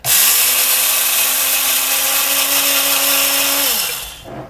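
Chia seeds, a little under a quarter cup, ground in an electric grinder: a loud, steady whirring motor roar that holds for about four seconds, then cuts off and winds down.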